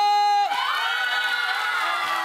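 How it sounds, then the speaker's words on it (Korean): Members of a girls' middle school wind orchestra cheer and clap loudly together after a brief tone, a sustained, energetic burst of youthful whoops and applause close by. "에너지 박수 함성!"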